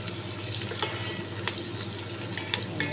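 Onion and garlic sizzle in a hot pan as they are stirred, a steady close frying crackle with occasional sharper pops and scrapes, no voices.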